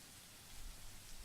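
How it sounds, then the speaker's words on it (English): Steady rain falling overnight, a soft continuous hiss of drops on surfaces that swells slightly in the second half, with no voices. "The rain that has started sometime during the night doesn't help the mood."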